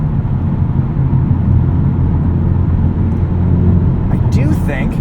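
A 2024 Hyundai Elantra N with a six-speed manual drives on a road, its engine and tyre rumble a steady loud drone from inside the cabin, with a voice briefly heard near the end.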